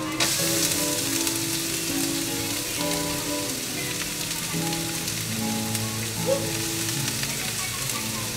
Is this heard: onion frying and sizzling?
yes